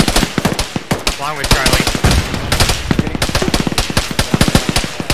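Heavy automatic gunfire in the ShackTac military video game, rapid bursts of shots cracking close and loud almost without pause, with a voice speaking briefly over the shooting.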